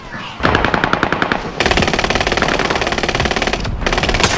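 Sustained bursts of rapid automatic machine gun fire in a video game battle, loud and close, with a brief gap before the firing resumes.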